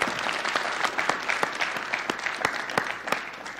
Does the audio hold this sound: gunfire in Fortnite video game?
no